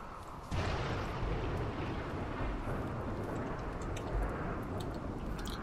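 Fire crackles and roars in a colony-building video game, a dense steady rumble that starts suddenly and then continues, with faint higher crackles scattered over it.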